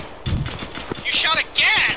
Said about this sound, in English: You shot again.